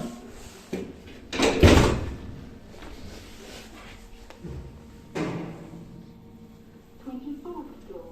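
A door is opened inside a building, with a loud clunk and rattle of the latch and frame early on, then a softer second knock later, with someone talking.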